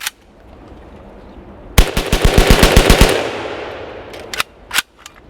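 A rifle fitted with a bump stock fires a rapid burst of about a dozen shots in roughly a second, loud and close outdoors, followed by a few single sharp reports.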